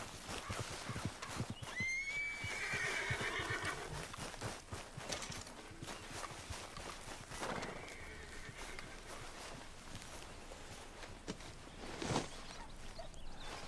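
In the video game Red Dead Redemption 2, a horse whinnies loudly near the start, then more neighing and snorts follow over hoofbeats clip-clopping steadily throughout.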